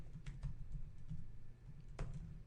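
Quiet keystrokes on a computer keyboard as a router command is typed, a brisk, uneven patter of close clicks with one sharper tap near the end, with no talking.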